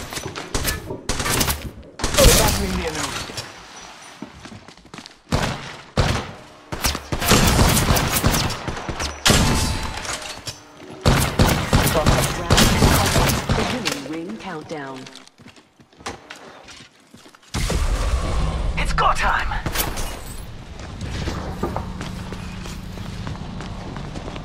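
Rapid gunfire bursts in the mobile shooter Apex Legends Mobile, loud repeated shots and clatter in uneven volleys with pauses, mixed with game effects and a voice talking over the action.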